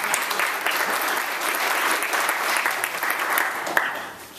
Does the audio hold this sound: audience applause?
yes